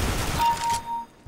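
Rapid gunfire in a multiplayer shooter's Arms Race match on the Lake map, a dense burst of shots fading out within about a second.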